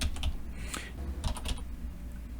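Code being typed on a computer keyboard, a brief close burst of quick key clicks over a low steady background hum.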